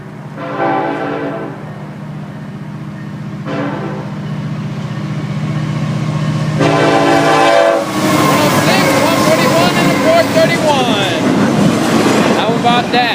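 A long Florida East Coast Railway freight train, about 8,700 feet, sounds its horn in several loud blasts and then rumbles past close by with clattering wheels and rising noise.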